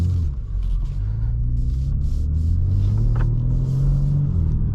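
A 2024 BMW M3 Competition xDrive drives on the road, its engine giving a deep, steady interior rumble with a slowly rising tone and no talk.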